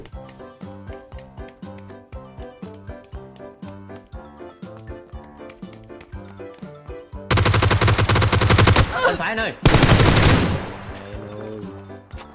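Rapid automatic gunfire from the PUBG battle royale game, sharp regular bursts of shots building into dense, loud volleys, with a brief spoken reply from a player.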